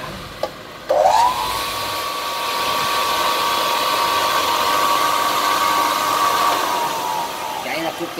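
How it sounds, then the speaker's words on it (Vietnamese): German-standard EYE sliding mitre saw with a 220V induction motor, spinning up with a sharp start and holding a steady, smooth whine that winds down near the end, heard close over background noise. "Đầu tiên là nghe tiếng máy. Máy này sử dụng điện 220V motor từ."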